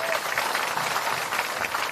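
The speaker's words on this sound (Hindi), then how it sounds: "आदरणीय प्रशांत किशोर जी के लिए एक बार जोरदार ताली बजाइए" Crowd applause at an outdoor village public meeting with Prashant Kishor in Hatwariya, Pipra block, Supaul, a steady dense roar of clapping that holds evenly for about two seconds with no clear voices.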